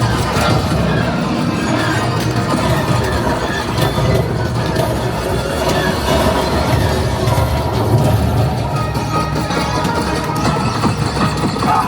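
A simulated train rumbles and rattles continuously in the Millennium Falcon: Smugglers Run ride at Disneyland, dense, loud mechanical noise and clattering sustained throughout without pause.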